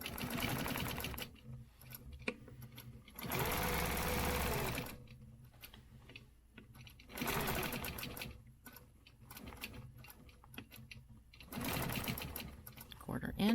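Sewing machine stitching along a quilting stencil line in bursts of rapid steady whirring, stopping and restarting several times, with a person talking in the pauses.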